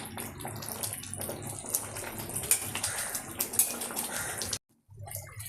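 An egg poach curry with six eggs simmers in a pan, producing a close, continuous bubbling and watery gurgle with small pops. It breaks off briefly near the end before resuming.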